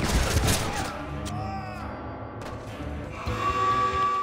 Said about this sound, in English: I think I just got a trophy for shooting his missile out of the air